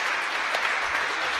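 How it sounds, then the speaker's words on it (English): An audience at a datathon award ceremony applauds a team with a steady, dense wash of clapping that holds at an even level from start to end, with no voices standing out. "please applause for"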